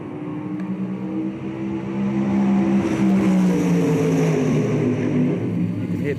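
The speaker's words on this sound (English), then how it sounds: "You can hear the cars going up the strip behind me." Drag racing cars roar up the strip at a Californian drag racing event, a distant engine drone that swells and holds as a steady rumble.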